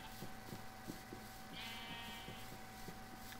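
Baby sheep in the Minecraft video game give a faint bleat partway through, over a steady hum and a series of soft rhythmic taps.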